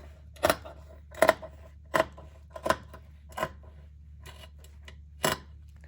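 Scissors cutting fabric for an art masterboard, six separate sharp snips spaced roughly evenly with short quiet gaps between, close and clear over a low background hum, no talking.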